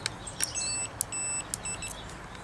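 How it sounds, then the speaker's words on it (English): Quiet, short electronic beeps from a multimeter continuity test repeat a few times over a faint hum, each a thin high tone, with sharp clicks between them. "It's a little beep."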